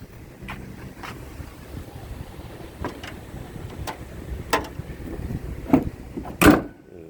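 A car hood comes down with one solid thump near the end, after several scattered light knocks and handling clicks outdoors under a soft wind hiss.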